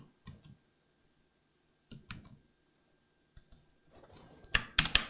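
Short bursts of clicking on a computer keyboard at a desk beside a Beelink Mini S12 N95 PC, separated by quiet gaps, ending in a louder flurry of sharp clacks.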